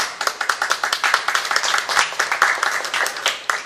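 An audience at a large convention applauds with dense, continuous hand clapping, fairly close and lively, sustained for several seconds with many individual claps pattering together.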